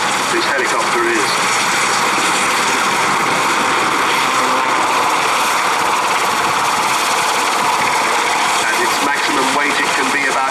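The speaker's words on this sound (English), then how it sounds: "And there the aircraft backing slightly away and climbing as she goes" RAF Sea King helicopter at a Cosford air display, backing away and climbing: a loud, continuous rotor and turbine roar fills the whole stretch, dense and unbroken, with a public-address voice speaking over it.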